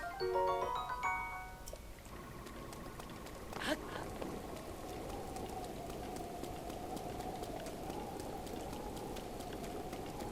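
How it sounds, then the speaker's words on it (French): Steady rainfall in the video game Breath of the Wild patters across the surface throughout, with a brief musical chime at the start and a soft swoosh partway through. "Alors le problème c'est qu'il pleut."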